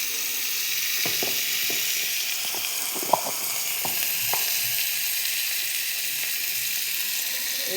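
Chili, cumin and turmeric frying with ginger-garlic paste and salt in a pan, a steady broadband sizzle with scattered light scraping taps and one sharp click.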